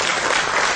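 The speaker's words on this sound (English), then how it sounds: "Can we give a round of applause for Marlon?" Audience applause fills a business presentation hall at a network marketing event, a dense, steady wash of clapping heard up close for a brief moment.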